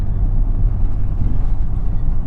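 A low, steady engine drone heard from inside a Maserati Ghibli, deep rumbling exhaust with wind-like hiss, no voices.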